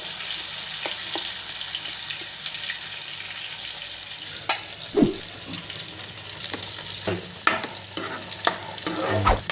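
Ground onion, tomato, ginger and garlic paste is stirred into frying chicken, a continuous wet sizzle punctuated by repeated spoon scrapes and knocks against the pan, close and fairly loud.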